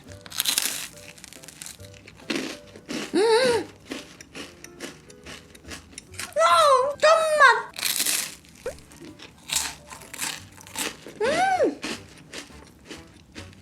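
Loud crunchy crackling bites of a crispy rice cracker snack repeat unevenly, with brief rustles and a few short vocal sounds between them, close up.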